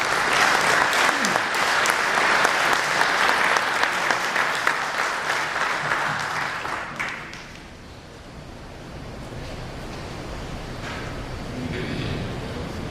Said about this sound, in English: So I think we should give her another round of applause for that.